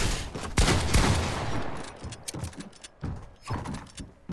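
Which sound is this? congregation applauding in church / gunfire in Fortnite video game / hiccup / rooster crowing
gunfire in Fortnite video game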